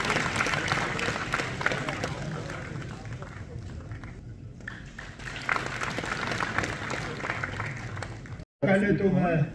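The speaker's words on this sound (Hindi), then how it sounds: "जोरदार तालियां हमारे इन नौजवानों के लिए।" Applause from the audience at a national conference on cold water fisheries, greeting a group of young people: sustained dense clapping across the room, with voices mixed in and a brief cut near the end before a louder burst.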